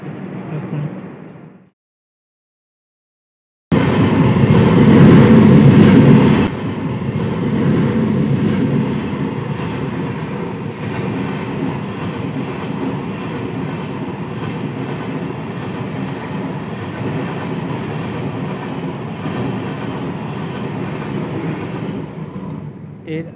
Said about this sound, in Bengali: আমাদের ট্রেনটি কিন্তু ছাড়লো এই হারতাকি স্টেশন থেকে।